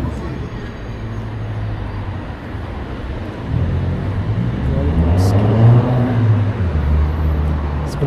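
A black car passes on a London street near Regent's Park, its distinctive exhaust a deep rumble that swells midway, heard amid traffic noise and wind with voices over it.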